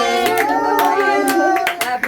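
At a home birthday cake cutting, people clap hands in a loose rhythmic beat, sharp claps landing about every half second over voices singing along.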